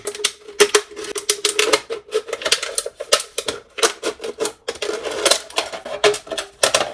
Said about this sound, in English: It was like fingers on a chalkboard, but worse, because it was metal on metal.